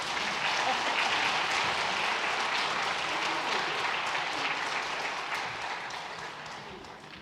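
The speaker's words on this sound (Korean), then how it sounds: "집사님 박수로 격려하겠습니다." Sustained applause from a church congregation at a Sunday worship service, a dense wash of clapping that holds steady and then slowly tapers off toward the end.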